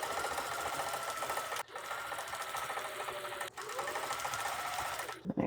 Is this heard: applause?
no